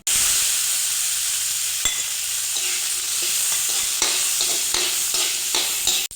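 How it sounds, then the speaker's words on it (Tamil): Small shallots, garlic cloves and dried red chillies stirred together in a hot pan, giving a steady loud sizzle with scraping stir strokes throughout and no talking. "இப்போ 4-5 சின்ன வெங்காயம், ஒரு 3 பல் பூண்டு, இந்த காஞ்ச மிளகாய் இதெல்லாம் கொட்டி ஒன்றா கிண்டிக்க வேண்டியதுதான்"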